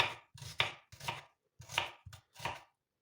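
A knife chops an onion for a salad, striking in about six quick, crisp strokes with brief gaps between them, close and fairly quiet, with no voices.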